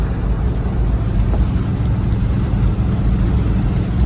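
Dodge Ramcharger with a 360 engine cruising along, a steady, close, continuous low engine and road rumble with no breaks.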